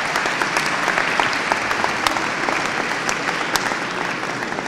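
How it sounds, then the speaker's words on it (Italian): An audience at a Christmas concert in Ponte Lambro bursts into dense, sustained applause, loud and even throughout with many hands clapping at once. "non è più che mi fate gli applausi"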